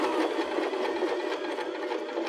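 A Baby Lock BL9 sewing machine stitches an appliqué onto cork fabric, its motor humming in a steady, continuous rapid run, close and even throughout.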